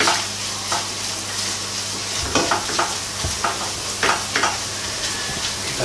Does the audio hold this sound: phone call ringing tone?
no